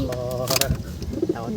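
Pigeons coo close by in soft, throaty warbling phrases, with short wing flutters or scuffles mixed in over a brief stretch.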